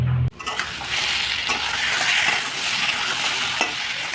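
A pan of egg curry made with small local eggs and potatoes simmers and sizzles close by, with a few soft stirring scrapes and light clinks over the steady frying hiss.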